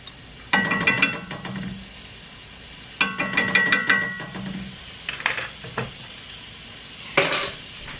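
Peppers and garlic sautéing in a pan, with a soft sizzle under two bursts of brisk stirring as a utensil clatters and scrapes against the pan, followed by a few lighter clinks and one sharp final scrape.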